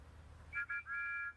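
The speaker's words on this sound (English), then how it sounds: "Thomas and Percy happily tooted their best friend's whistle" A bright, high steam locomotive whistle toots three times in quick succession at a quarry, the last blast held longest, over a low rumbling background.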